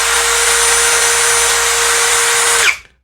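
A battery-powered KYOAL KY6065 tool running at its lowest speed, about 450 RPM, gives a loud, steady whine with a constant tone. It cuts off abruptly near the end and winds down into silence.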